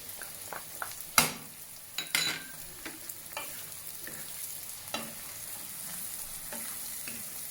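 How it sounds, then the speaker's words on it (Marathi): Potatoes, capsicum and green peas are sautéed on high flame for tawa pulao: a soft steady sizzle with repeated sharp spatula scrapes and clacks against the pan. "दोन मिनिटं परतून घेऊया त्याला। फ्लेम हायच ठेवायची आहे परतताना।"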